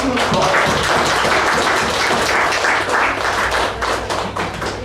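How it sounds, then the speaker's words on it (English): Meeting audience applauding together, many hands clapping in a dense, continuous patter with occasional sharper claps standing out, close and fairly loud, slowly fading toward the end. "A round of applause for them."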